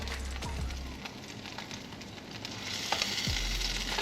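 Fish cakes made from freshly caught fish searing in a hot frying pan, a steady close sizzle with occasional stirring scrapes and a louder burst of frying near the end.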